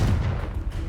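A Confringo blasting spell explodes in Hogwarts Legacy, landing as a short, heavy, booming blast with a deep rumble that fills the whole moment.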